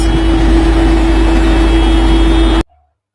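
A fuel truck's engine gives a loud, steady, droning rumble with a constant hum that stops abruptly near the end, leaving silence.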